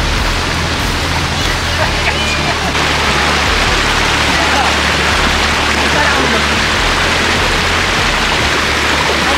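Kent Falls in Connecticut roars as a steady broadband rush of cascading water, loud and continuous, with a low rumble beneath and no pauses.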